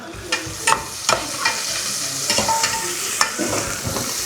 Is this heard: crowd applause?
no